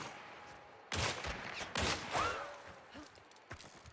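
Gunfire in the multiplayer shooter Hunt: Showdown, several sharp reports spaced a second or so apart with echoing tails, moderately loud against a quiet ambient background, no one speaking.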